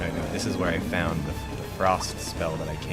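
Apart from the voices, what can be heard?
No everyday noise stands out behind the speech.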